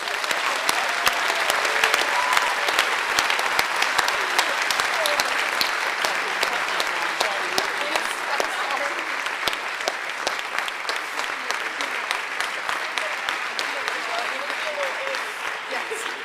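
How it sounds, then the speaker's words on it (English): Sustained, dense applause from a crowded audience for students at a high school senior awards night. It runs at an even volume throughout, with a faint murmur of voices underneath. "Let's give these students a round of applause"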